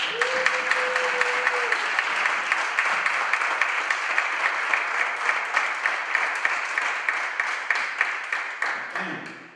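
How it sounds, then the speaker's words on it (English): Audience at a school district budget hearing applauding steadily for several seconds, dense clapping with a few sharper claps standing out, fading at the very end. "You can clap for that."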